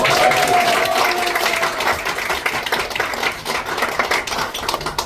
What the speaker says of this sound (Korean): 기분 좋으면 박수 한번 쳐주세요.